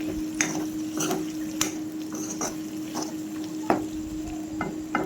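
Oil-free pork curry with cumin, chili powder and meat masala is stirred in a pot. Several distinct scraping strokes of a spoon against the metal come at an uneven rhythm over a low sizzle and a steady hum.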